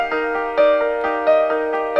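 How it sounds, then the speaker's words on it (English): Layered music with a steady eighth-note pulse and stacked sixteenth notes, sustained tonal chords under regular rhythmic attacks, played alone without voices. "So we hear that kind of steady 8th note and the 16th notes stacked on top of each other."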